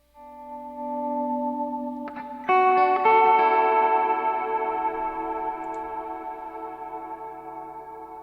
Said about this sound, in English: And last but not least, which is one of my latest acquired pedals, is the Lossy.